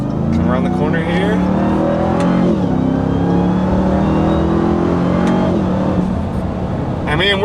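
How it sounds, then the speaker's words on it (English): A 2021 Ram 1500 TRX pickup truck gives a deep exhaust drone while driving on a road, with a loud, steady engine note that swells and eases, and a voice talking over it. "you hear some really, really nice deep exhaust noise."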